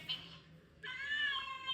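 A phone app plays a short recorded cat meow, a single faint, thin cry after a brief quieter sound, in a quiet room.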